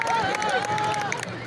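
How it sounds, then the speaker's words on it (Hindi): Spectators at a Ghara Dor Hinjla fair competition clap loudly and steadily amid crowd hubbub, with a voice carrying over the noise. "दर्शकों से अनुरोध है कि जोरदार तालियां बजाएं इनके लिए,"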